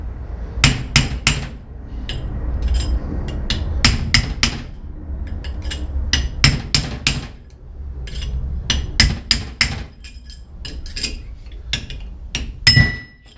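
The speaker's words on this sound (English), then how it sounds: "I just take a punch to the bottom of the bolt hole. Just kind of go in a crisscross pattern" A hammer strikes a steel punch against the bolt holes to tap a ring gear off a differential, ringing in bursts of sharp, close metallic blows with short pauses.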